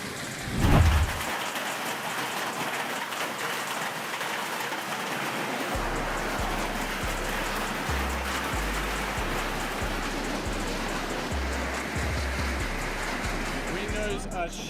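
Heavy hail or rain pounds down steadily during a typhoon storm, a dense continuous roar of impacts with a deep thunder-like rumble at the start and a rhythmic low pulsing beneath, with speech over it.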